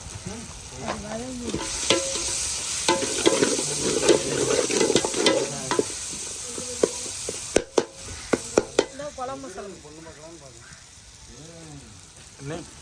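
Tomatoes fry in hot oil for a Tamil-style fish-head curry, stirred with a metal spoon: steady close sizzling with repeated scraping strokes against the pan and sharp clinks toward the end, a voice talking intermittently over it.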